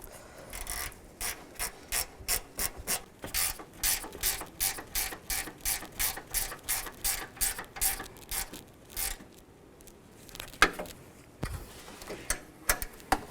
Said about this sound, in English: Now we can put those 2 screws in, or 2 bolts. And tighten those down.